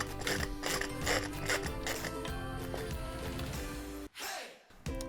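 A ratcheting socket wrench loosens the 7/16 nuts holding a ceiling fan motor to its base plate, giving a steady mechanical clicking and whirring for about four seconds before a brief pause and more movement.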